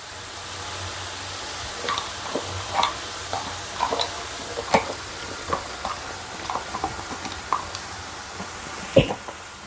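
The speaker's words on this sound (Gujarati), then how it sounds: "मसाला बधा मिक्स करी देशुं।" A spoon stirs chili powder, turmeric, salt and Kashmiri chili into green chickpea curry in a pan, sounding as close scraping and knocking strokes over a soft, steady sizzle, with no talking.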